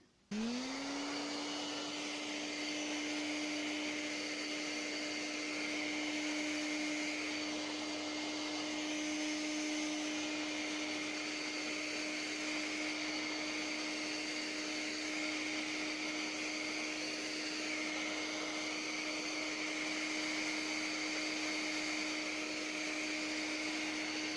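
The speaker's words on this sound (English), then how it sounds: "Again, I'm just going to use the hairdryer, so bear with me on that one." A hairdryer blows steadily on fabric paint throughout, a loud continuous whirring drone that spins up at the start and then holds an even pitch with no talking.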